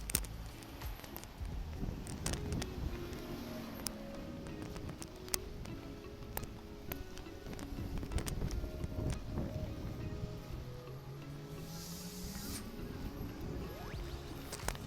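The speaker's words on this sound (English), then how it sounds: "It's quite windy today, so it's perfect weather." Outdoor wind by a lake in Florianópolis, Brazil, buffeting the microphone in uneven gusts, with scattered clicks and a faint rising engine drone in the background.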